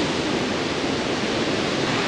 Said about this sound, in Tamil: முழுக்க எல்லா இடத்துலையும் சாரல் தான்.